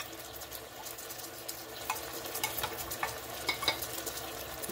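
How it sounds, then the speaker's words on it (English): Steady sizzling of beef frying in a pan for a stir fry, with occasional light scraping and stirring clinks over the continuous hiss. "add this to the beef here, which is frying away."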